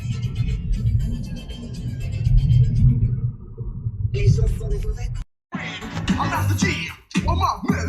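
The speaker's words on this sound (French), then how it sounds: "Ah si, il y a un peu de tonnerre." Distant thunder rumbles low and long outdoors near farms with roofless buildings, a deep sustained roll that fades, followed by people talking nearby with brief gaps of silence.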